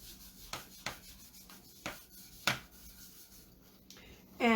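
A cloth rubs wax off a small wooden craft shape in a series of short, soft, close strokes, each one a brief scrubbing swish, with quiet gaps between them and a louder rub at the very end.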